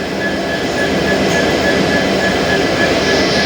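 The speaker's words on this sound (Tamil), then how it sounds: "சென்னை எக்மோர் மேங்களூர் வண்டி டிபார்ட் ஆகிட்டுருக்குறான்." The Chennai Egmore–Mangalore express pulls out of the station, a loud, steady rumble and roar of the train running nearby with a faint whine above it.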